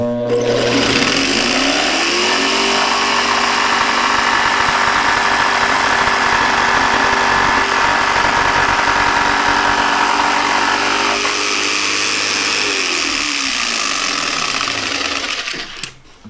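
A jigsaw cuts through wood for a plunge cut, a loud steady buzzing whine that holds for about thirteen seconds, with the motor pitch sliding down as it winds off near the end.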